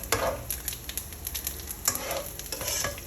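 Cumin, fennel, urad dal and chana dal tempering in hot oil for an onion thosai, a faint close sizzle with light spoon stirring and scraping clicks scattered through it, with no talking.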